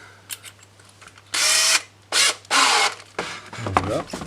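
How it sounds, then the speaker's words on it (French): An electric cordless drill being readied for drilling roller skate parts gives several short whirring bursts of varying length, close and loud, with small clicks and handling noises between them. "Donc ensuite, on se munit d'une perceuse"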